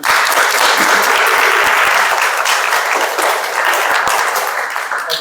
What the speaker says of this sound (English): So a round of applause to Dr. Hany.